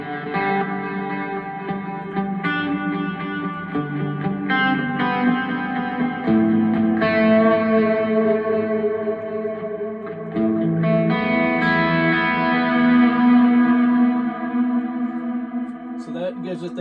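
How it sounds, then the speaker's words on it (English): Electric guitar played through a Hall of Fame 2 reverb pedal, sustained chords washing into a big, atmospheric reverb tail that smears each strum into the next, steady and fairly loud with no talking. "Now I'll add the Hall of Fame 2 for the bigger reverb."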